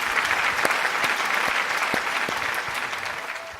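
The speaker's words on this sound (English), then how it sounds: "Can you give yourselves a round of applause," A round of applause from attendees at an English language training management conference, dense continuous clapping with a few sharper claps standing out, fading slightly toward the end.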